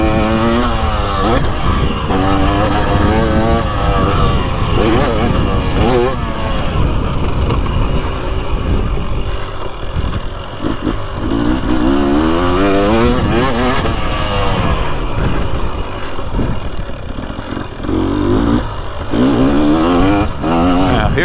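A 2023 Husqvarna TX300 Heritage TBI two-stroke dirt bike engine revs loud and close throughout, its pitch climbing and falling repeatedly through gear changes and throttle blips with no voices.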